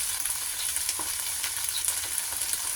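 Pechay greens sizzle and simmer steadily in a pan, a constant close frying hiss with faint scattered pops and no talking.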